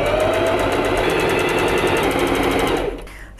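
A sewing machine runs steadily, stitching bow tie fabric pieces together along their long side; a continuous close mechanical whir with rapid regular stitching pulses stops near the end.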